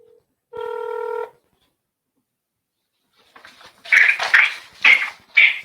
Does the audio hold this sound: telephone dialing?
yes